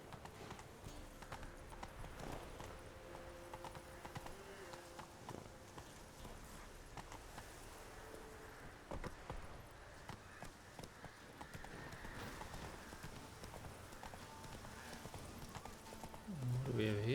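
A horse gallops in The Witcher 3 video game, rapid rhythmic clip-clop hoofbeats running steadily under game music, with someone talking over them.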